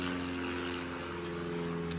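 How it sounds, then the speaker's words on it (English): An airplane flying overhead outdoors, a steady low droning engine hum that stays even and continuous throughout, fairly distant and faint. "There's an airplane."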